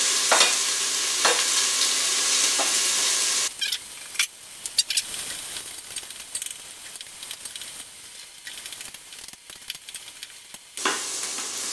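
Garlic and onions frying in a pot for butternut squash soup, a bright hiss of sizzling oil that drops back as stirring scrapes and clacks take over, then the loud sizzle swells again near the end.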